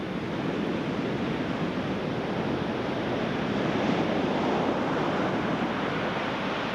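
Surf of the Tasman Sea breaking on a New Zealand beach, a steady broadband roar of waves with some wind rumble, close and continuous with no voices.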